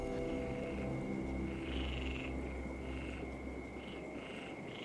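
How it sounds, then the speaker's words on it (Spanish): Frogs calling at night in the Amazon rainforest, a dense chorus of pulsing croaks and trills alongside a steady high insect drone, close and continuous with no voices. "Poco después, se unen las ranas."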